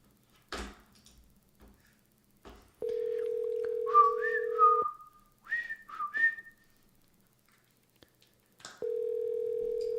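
A phone call's ringback tone: two long, steady, clear tones separated by a pause, with bright whistled chirps in the quiet gap between them.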